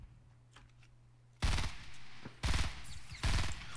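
Gunfire in the Fortnite battle royale video game comes in three loud, close bursts of rapid automatic shots, separated by short pauses over a faint background hum.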